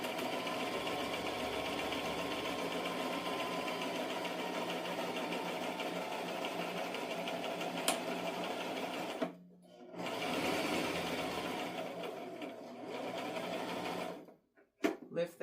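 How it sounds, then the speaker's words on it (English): A sewing machine runs a straight stitch on dressmaking fabric, a steady close whirring hum that breaks off briefly twice near the end before starting again. "let's go ahead and give it a straight stitch"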